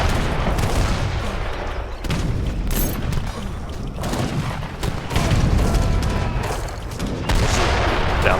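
Bombard cannons in Age of Empires III fire continuously in a dense battle, with booming shots and impacts overlapping throughout at steady loudness and no talk.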